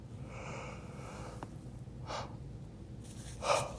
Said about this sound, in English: I cannot stop yawning.